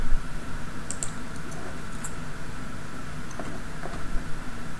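Soft, close keystrokes tap out a value on a computer keyboard during Autodesk Inventor modeling, a few scattered clicks over a steady room hiss.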